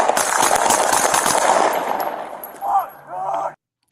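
A rapid string of close, sharp gunshots cracks out as camera footage captures a confrontation, followed by brief shouting before the sound cuts to silence.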